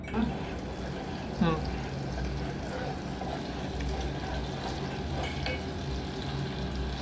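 Butter simmering in a pot as ghee is made, a steady bubbling sizzle with soft liquid crackles and a brief clink, close up with a low hum beneath.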